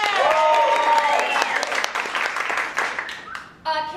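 Audience clapping at a live comedy show, a loud burst of applause that fades gradually, with voices over it.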